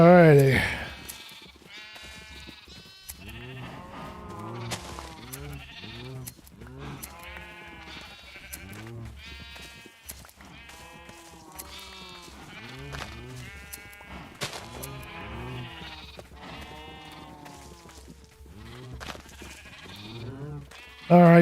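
Sheep bleat in Minecraft, a crowded flock giving many overlapping, repeated bleats throughout, fairly loud and close, with some talk mixed in.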